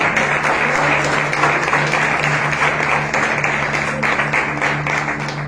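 A church congregation applauds together in a steady, dense wash of clapping that holds at full strength throughout, with a faint low tonal hum underneath.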